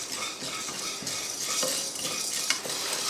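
Chana dal, urad dal and a handful of curry leaves roasting in a pan: a continuous dry sizzle and crackle with light clinks and scrapes of a spoon against metal, close and fairly even throughout, no speech.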